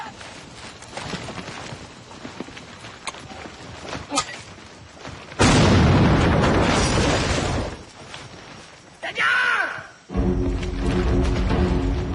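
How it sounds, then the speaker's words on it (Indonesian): Grenade explosion in a guerrilla war scene: a loud, sustained roaring blast a few seconds long, followed by more loud rumbling bursts amid busy background noise. "Granat!"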